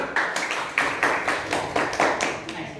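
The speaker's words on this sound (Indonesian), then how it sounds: "Tepuk tangan lagi." A classroom of students claps hands together in a short burst of rhythmic clapping, moderately loud and evenly paced, with faint voices mixed in.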